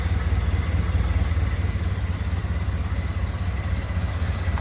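A 1931 Ford Model A Roadster engine idles steadily up close, a low rhythmic chugging with a slight mechanical clatter, constant and unbroken with no talking.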